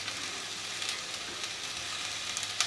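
Burnt garlic rice stirred with butter in a pan, giving a steady soft sizzle with faint intermittent scraping, close and fairly quiet.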